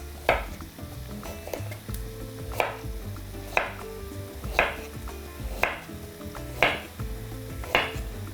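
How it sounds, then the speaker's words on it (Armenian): A carrot is sliced diagonally with a knife for a cauliflower and mushroom dish, six crisp chops landing on a board at a steady, roughly one-per-second pace, close and distinct over a low kitchen hum. "սա էլ ենք այսպես շեղակի կտրատում"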